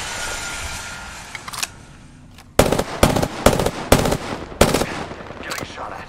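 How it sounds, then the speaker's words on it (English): Bursts of automatic gunfire from the Apex Legends video game, several sharp loud volleys in an irregular rhythm after a quieter stretch, with a short burst early on. "Getting shot at."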